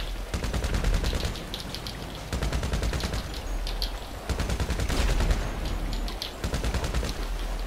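GTA Online gunfire from a conventional gun, rapid automatic bursts of sharp cracks in several volleys separated by short pauses, loud and close with no talk.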